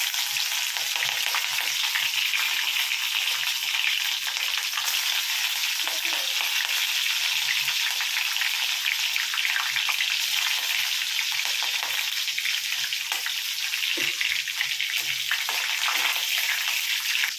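Green chillies frying with mustard seeds and chana dal for a beetroot poriyal give a steady, loud, close sizzle with a faint scraping of stirring throughout, no voices.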